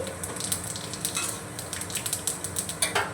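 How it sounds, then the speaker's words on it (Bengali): Fennel seeds are stirred in hot mustard oil in a wok, a soft steady sizzle under repeated light scrapes and clinks of a metal spoon against the pan. "মৌরিটাকে একটু নাড়িয়ে নিলাম।"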